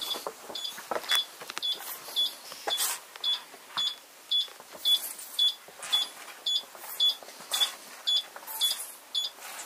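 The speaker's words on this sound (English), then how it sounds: "So where is that beeping?" Repeated short electronic beeps sound at a steady rhythm on an abandoned oil rig at sea, about eighteen evenly spaced chirps over a faint background hiss, with no talk.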